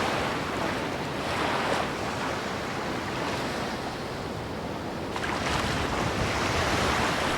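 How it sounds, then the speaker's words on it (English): Strong gusting wind blows across open sea with surging waves and spray, a loud continuous roar with buffeting wind noise on the microphone and no voices. "winds were so strong this morning that it was actually blowing the water off the sea."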